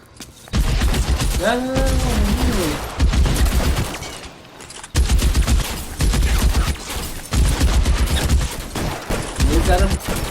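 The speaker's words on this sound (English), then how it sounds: "یه ذره با شاتگان پشت رو میزنم" Shotgun gunfire in the video game L.A. Noire, loud repeated blasts in bursts across the stretch, with a voice briefly speaking between shots.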